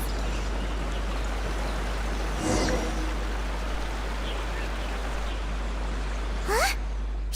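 A small waterfall in the video game Genshin Impact flows as a steady, soft rushing wash under a low hum, with a couple of brief faint chirps and swishes.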